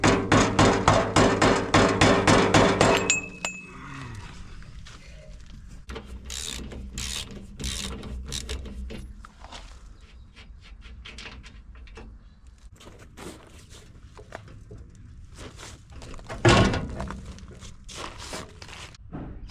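Bolts come undone on the rear protection of a Patrol, first a loud rapid ratcheting burst up close, then scattered clanks, clicks and metal knocks as the part is worked loose and lifted off.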